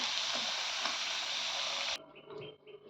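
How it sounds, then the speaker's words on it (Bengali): Potatoes frying in hot oil for chicken biryani give a dense, loud sizzle that cuts off abruptly after about two seconds, followed by quieter kitchen clatter and a faint running-water sound. "ওই জন্য এখন আলু ভেজে নেব, তুলে বিরিয়ানির সাথে দেবো।"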